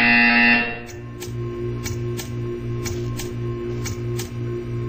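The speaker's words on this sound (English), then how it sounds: "You will hear a buzzer." An electronic buzzer tone in the Portal 2 video game sounds loudly at first, then gives way to a rhythmic pulsing mechanical hum with regular ticking clicks, with no voices.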